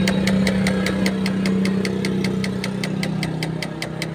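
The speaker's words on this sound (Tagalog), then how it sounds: "Tumutunog yung relay sa likuran." A relay near the main fuse and battery of a hard-starting Kia Bongo 3.0 clicks in a fast, even, repeating rhythm, loud and close over a steady low engine hum, with no talk.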